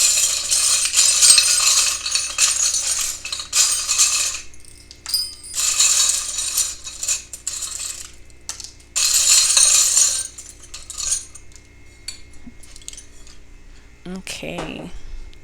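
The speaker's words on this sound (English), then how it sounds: "I just kind of shuffle around until I feel like it's time for me to pull out some charms" Small metal rune charms clink and rattle in bursts as they are shuffled in a container, with short pauses between handfuls.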